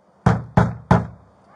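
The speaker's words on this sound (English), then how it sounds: "Bang on that door" Three loud, heavy bangs hit a door as police serve a search warrant. The blows are close and spaced about a third of a second apart, each ringing out briefly.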